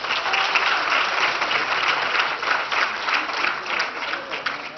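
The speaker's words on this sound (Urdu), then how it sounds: "ان کے لیے تالیاں بجائیے گا۔" Audience applause at a naat recitation competition in Gilgit-Baltistan: dense, steady clapping from a sizable crowd, moderately loud and continuous throughout with no break.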